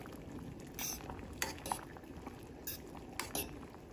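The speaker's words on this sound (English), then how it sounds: "I'm cooking my noodles now. Like, I put olive oil and salt." Noodles cooking in a pot of water with olive oil and salt, a steady low simmering bubble under scattered metallic clinks of a utensil against the pot, close and moderately quiet, with no talk.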